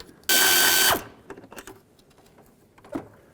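A ratchet loosens an intake manifold bolt on a 2002–06 Toyota Camry, one short burst of rapid clicking followed by a few scattered metallic taps and handling noises, close and without talk.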